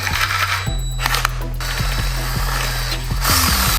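Drill boring through a very thick plate for homemade all-terrain roller skates: a loud, close, steady motor drone whose pitch shifts in steps as the bit bites and slips, with a rougher grinding stretch near the end and no voices.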